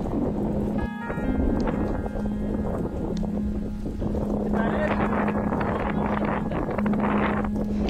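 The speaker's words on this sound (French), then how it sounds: "on a énormément de vent glacial qui vient d'arriver là" Strong, gusting icy wind during a storm roars across the microphone, a steady broadband rumble with a low hum running underneath.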